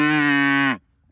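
A single cow lets out a loud, sustained moo during a cattle drive on a farm, close by and steady in pitch before cutting off sharply into quiet.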